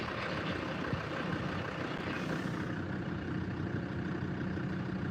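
A tractor works as it rolls a small boggy, rushy grass field, its engine a steady, loud low rumble that holds constant throughout with no voices over it.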